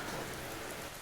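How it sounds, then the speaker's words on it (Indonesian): Steady rain pours down outside, a dense continuous hiss of drops on a surface with no voices or breaks, fairly soft and close. "mohon maaf ya teman-teman kalau dengar suara hujan di luar"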